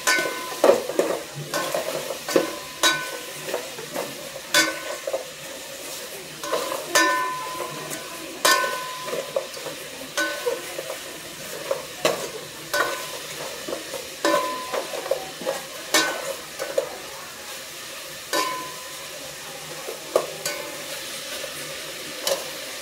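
Food frying and being stirred in a pan for a Cambodian-style stew, with a steady sizzle broken by frequent scraping and clinking strokes of a utensil, close and fairly loud, with no talk.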